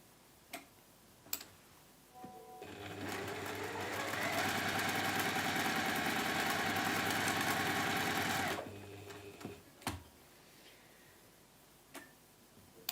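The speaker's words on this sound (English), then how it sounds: "we're going to sew 1/4 inch either side of the line" A sewing machine stitches quilt pieces in one steady run of about six seconds, whirring with a fast mechanical tick, framed by quieter handling clicks and taps before and after.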